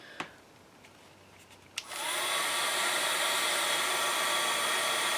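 A heat tool warming a layered stencil candle switches on after a couple of soft taps and then blows a loud, steady, rushing whir close by to the end.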